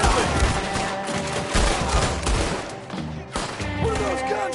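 Gunfire in Red Dead Redemption 2 comes as dense, overlapping volleys of close, loud shots that keep going without a break amid the game's background noise.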